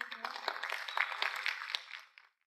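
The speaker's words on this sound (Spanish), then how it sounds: "Démosle una bienvenida a la doctora con un fuerte aplauso." Applause from an audience welcoming a doctor giving a science lecture, a moderate patter of hand claps from a fairly small crowd, heard fairly faint, that tapers off and stops at the end.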